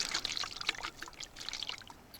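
Water trickles and splashes into a spray bottle in quick, faint spurts. The sound is soft and close, with no voices.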